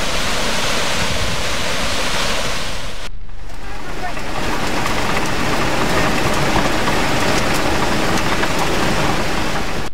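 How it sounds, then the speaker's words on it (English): Primitive water turbine driving a Himalayan barley grain mill, heard as a loud, constant rushing roar of water. It cuts out briefly near the three-second mark, then continues just as steadily. "A primitive water turbine runs the mill."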